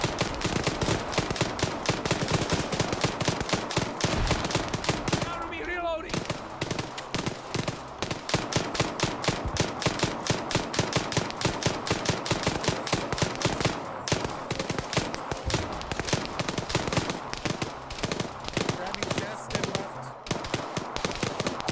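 Dense, nonstop automatic gunfire from an Arma 3 military shooter game rattles in rapid bursts throughout, loud and close, with a brief thinner gap early on.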